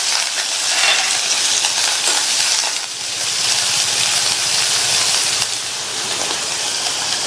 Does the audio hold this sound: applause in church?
no